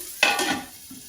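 Fish frying in a small amount of oil, likely with a little spice, in a village home kitchen: a sudden sizzling burst as the fish hits the pan, easing into a softer crackle, alone and fairly close.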